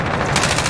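Rapid automatic gunfire in the Warzone battle royale game, a loud dense burst of shots lasting under a second.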